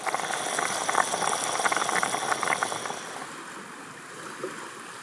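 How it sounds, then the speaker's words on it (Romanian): A pot of potato soup bubbles at a rolling boil with a dense hissing gurgle that fades somewhat after about three seconds. "Ciorba de cartofi fierbe."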